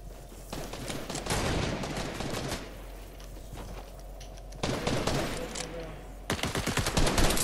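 Bursts of rapid automatic gunfire in the video game Fortnite, fairly close and loud, coming in several separate volleys with quieter gaps of ambient game sound between them.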